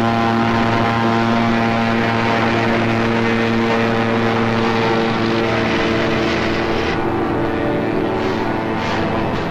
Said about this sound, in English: High overhead, British fighter planes fought the Luftwaffe to a standstill.